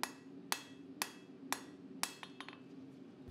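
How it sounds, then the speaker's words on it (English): A crossbeam hand hammer strikes the heel of a Damascus chef's knife on an anvil, five sharp, ringing blows at an even half-second pace, followed by several lighter, quicker taps, all close and alone. "I was using a crossbeam hammer to start drawing out my heel"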